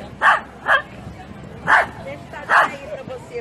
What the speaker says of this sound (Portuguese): Ô, Chiquinho, olha o cachorrinho, Chiquinho.